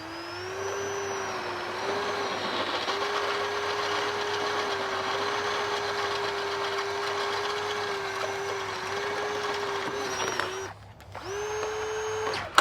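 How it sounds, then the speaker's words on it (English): A drill bit bores through metal to make a mounting plate for train horns on a Peterbilt truck, a sustained whining tone that runs steadily for about ten seconds, cuts out briefly, then resumes. "Yikes, them some cutting drill bits right there"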